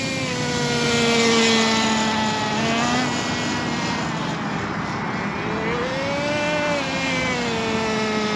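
An HPI RS4 Super Nitro RC car's small nitro engine runs steadily and loud throughout, its high buzzing whine rising and falling slightly in pitch as the throttle shifts.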